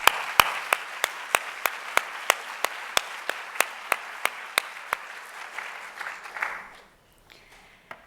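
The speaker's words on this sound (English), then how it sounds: "So I think we deserve to give the faculty a round of applause." Applause for the faculty at a 2016 capstone event, with sharp, rhythmic claps over a softer crowd of clapping that fades out after about seven seconds, leaving a brief near-silence before a faint rustle.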